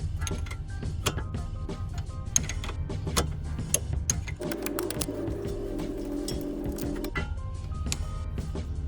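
13mm brake caliper bolts being removed on an Alfa Romeo Giulietta during a rear brake pad change, with a ratcheting, whirring tool rattle and clicking metallic ticks, plus a steadier mechanical drone through the middle stretch.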